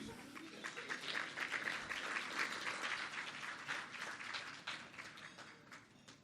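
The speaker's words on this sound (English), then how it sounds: "Can we give Scott another round of applause, please?" Applause from a small audience at a business meeting, a dense patter of clapping that swells and then thins out over several seconds, heard at a moderate distance and fairly quiet.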